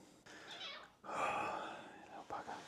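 A house cat meows close by indoors, giving two or three drawn-out, wavering calls with short pauses between them.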